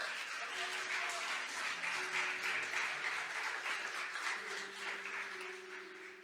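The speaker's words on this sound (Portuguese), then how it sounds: "você pode aplaudir o Senhor?" A church congregation applauds during a sermon, a soft, continuous wash of many hands clapping heard at a distance, with faint sustained tones from instruments underneath.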